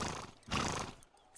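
A cartoon horse on a ranch neighing, one short loud whinny burst in the middle with rough breathy sounds before and after, no speech.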